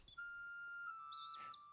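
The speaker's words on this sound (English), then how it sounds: "Wilfred went and sat on the stairs and blew his new whistle." A small toy whistle gives a thin, steady high tone that holds for about a second, then changes to a brief warbling trill, all quiet and alone.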